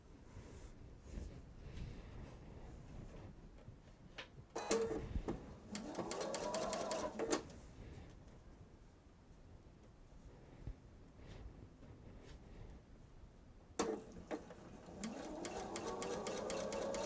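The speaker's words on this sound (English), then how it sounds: "back to our sewing machine we go." A sewing machine stitches quilt patches for a seasonal bench pillow in two rapid mechanical bursts separated by quieter handling, close and steady while running.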